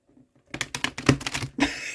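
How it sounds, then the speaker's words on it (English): A deck of Santa Muerte tarot cards is riffle shuffled, a quiet pause giving way to a dense, rapid flutter of card edges snapping and clicking close by, ending in a brief bridge-like riffle burst. "I think they're going to be difficult to riffle shuffle though"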